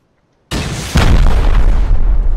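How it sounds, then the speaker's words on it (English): A rocket detonates during a base raid in the survival game Rust, a sudden loud boom after a brief silence that swells into a second heavier blast and a long rumbling roar. "One more rocket, it's gonna blow and we're gonna shoot, okay?"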